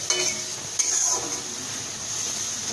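Stuffed pointed gourd with shrimp, turmeric and salt is stirred in a pan, giving a soft sizzle with two sharp metallic clinks of a utensil against the pan early on.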